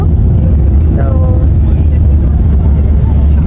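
Steady, loud low rumble of road and engine noise inside a car on a long road trip, filling the whole stretch, with a faint voice briefly audible under the drone.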